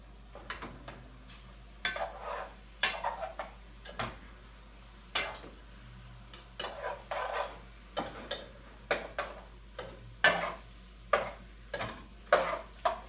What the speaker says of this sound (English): Let me mix this real quick.